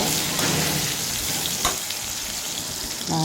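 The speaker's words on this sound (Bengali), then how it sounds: "ওই কড়াইয়ের পাড়ে আমি টমেটো আর পেঁয়াজ দিয়ে ভালোভাবে নেড়ে নেব।" Tomato and onion being stirred and fried in a wok, a steady, close hiss of frying with occasional soft spatula knocks, no speech.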